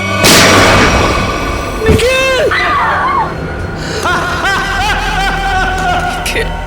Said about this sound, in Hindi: गोली चलाइए सर।